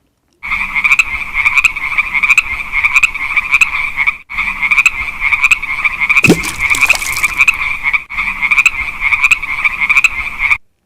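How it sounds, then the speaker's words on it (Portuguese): Frogs croak in a loud, dense chorus of rapid rhythmic pulses that repeat in bursts separated by brief gaps, with a short swooping call cutting through midway. "Você já deve ter ouvido sons ali dos sapos."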